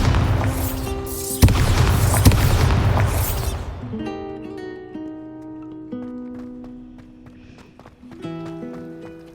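A Bombarda spell blast in a Hogwarts video game lands as a loud, crackling explosion with sharp hits over a few seconds, then fades into quieter tonal game sounds and a later clatter.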